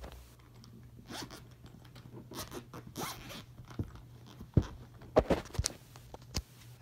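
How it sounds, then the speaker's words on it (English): A zipper is pulled open in several short, close tugs, some quick rasps and a few sharper clicks, with light handling noise around them and no talk. "Let me unzip it first."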